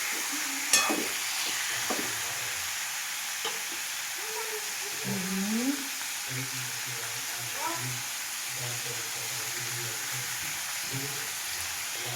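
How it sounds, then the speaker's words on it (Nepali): Special meat cooks in a pan with a constant sizzle, broken by repeated scraping stirs of a spoon, while a person talks quietly underneath. "स्पेसल मासु पकाउँदै हुनुहुन्छ हाम्रो भाउजूले"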